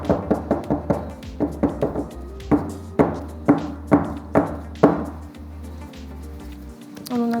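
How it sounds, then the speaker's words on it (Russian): A silicone or plastic chocolate mold filled with thick chocolate and kataifi pastry is rapped repeatedly on a countertop, giving a series of close, hollow knocks in an uneven rhythm over a steady low hum. "теперь можно немножко постучать, чтобы шоколад распределился"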